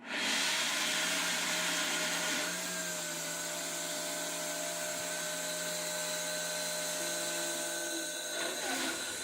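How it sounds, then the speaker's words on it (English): A food processor whirs on a puree setting while blending cream and salt into homemade butter, a steady high motor whine held for several seconds with a slight shift in pitch partway through and a stop near the end. "we're going to put this on a puree setting"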